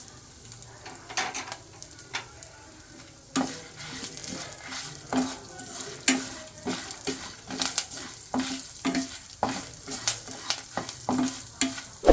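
Peppercorns, fenugreek seeds, curry leaves and asafoetida fry in oil for a pepper kuzhambu, a close sizzle broken by frequent sharp crackles and spoon taps against the pan in uneven bursts, with no one speaking.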